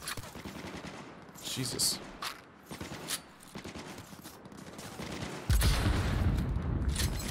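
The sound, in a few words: gunfire in Cyberpunk 2077 video game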